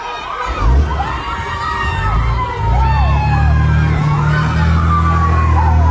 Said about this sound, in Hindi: महिलाओं और बच्चों के बीच चीख पुकार मच गई इन हमलों के बाद।